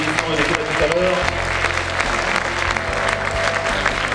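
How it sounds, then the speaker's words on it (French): A hall audience at a French sports awards ceremony in Aveyron applauds a medal winner with steady, dense clapping throughout, loud and continuous under a faint voice. "on peut l'accueillir s'il vous plaît sous un tonnerre d'applaudissements"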